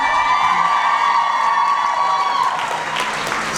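A panel audience at a Vampire Diaries fan convention applauds loudly and steadily, with cheers and whoops rising above the dense clapping throughout.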